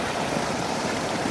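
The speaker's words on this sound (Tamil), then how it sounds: "ஸோ இந்தளவுக்கு ஃபோர்ஸாக வரும் தண்ணி." Well water gushes forcefully near a stone clothes-washing slab beside banana and coconut groves, a loud, steady rushing roar that stays even throughout, with no voices.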